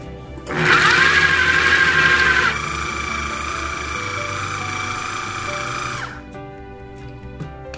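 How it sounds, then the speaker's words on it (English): An electric grinder coarsely grinds soaked chana dal with a loud, high motor whine that starts, shifts to a steadier lower pitch partway through, then winds down and stops. "So we are going to coarsely grind the pulses of the chana dal."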